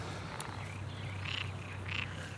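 Frogs croaking by a river, two or three short raspy calls spaced about half a second apart, over a steady low background hum of flowing water.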